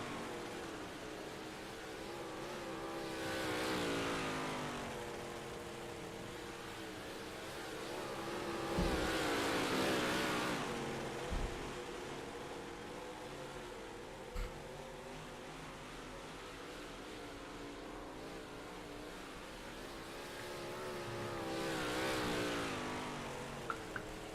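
Race cars in a video game race with fewer than ten cars: a constant, moderately loud engine drone that swells and fades as cars pass, with a few sharp knocks, and no talking.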